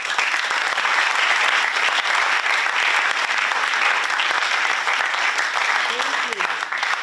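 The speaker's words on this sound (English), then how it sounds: "let us one more time give them another round of applause" An audience gives a long, loud round of applause at a high school Christmas tree competition award ceremony, dense continuous clapping sustained throughout with a faint voice near the end.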